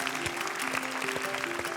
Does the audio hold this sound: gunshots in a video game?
no